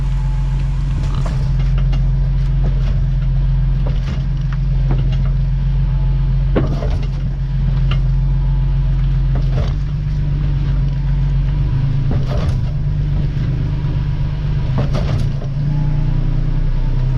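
A 2018 Ford van driving a bumpy test course with rear helper springs fitted, a steady low engine and road drone inside the cab broken by repeated knocks and thumps from the suspension.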